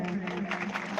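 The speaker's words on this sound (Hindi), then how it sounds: "जोरदार ताली बजाएं इनके लिए" Audience applause at a bhajan competition final, a short burst of crowd clapping heard at a moderate distance, steady and brief, with a voice audible through it.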